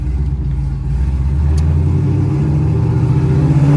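A 2014 Chevrolet Camaro SS engine revs while drifting on a street, a deep, close, continuous rumble that swells and holds steady.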